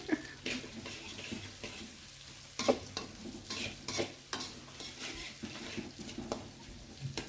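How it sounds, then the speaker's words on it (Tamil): A dosa ladle stirs and scrapes food in a pan over the fire in a village kitchen, with steady sizzling throughout and repeated scraping strokes, close and fairly loud, with no talk. "இந்த பாருங்க தோசை கரண்டி வச்சு கிண்டிட்டு இருக்கேன்"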